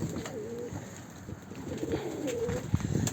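Pigeons coo softly in a snowy yard, several low, rolling calls repeating close by over faint background noise.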